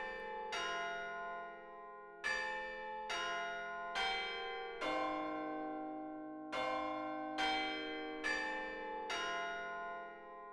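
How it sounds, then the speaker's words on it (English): A deep church bell tolls at steady intervals, each ringing strike decaying into the next, a long slow sequence heard alone and moderately distant. "he was awoken by the striking of the 12th bell"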